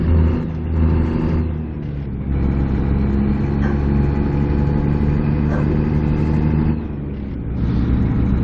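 Heavy truck engine in American Truck Simulator, a steady loud mid-range drone that rises and dips as it revs through gear changes, with no talk over it.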